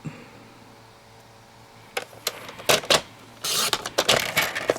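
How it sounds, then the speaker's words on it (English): Paper trimmer slicing through cardstock during card making, a few sharp scraping and clicking strokes that build into a louder rasping cut near the end, after a quiet stretch. "Cut that guy right off"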